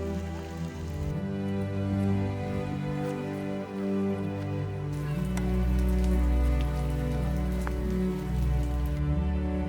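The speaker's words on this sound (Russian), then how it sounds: "Люблю такой дождь, мне нравится." Steady, warm rain on Madeira patters on a surface, a continuous dense hiss with occasional sharper drops, close and even throughout with no voices.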